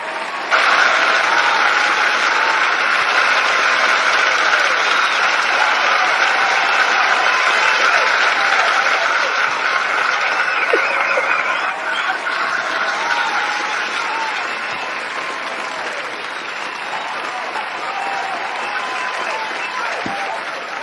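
A prerecorded applause sound effect plays on a talk show: loud, dense, continuous clapping that runs unbroken and eases slightly toward the end.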